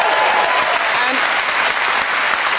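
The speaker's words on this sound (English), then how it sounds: "so you are applauding and clapping anyway" A television talk show studio audience claps and applauds, loud, dense and sustained from start to finish with no talking.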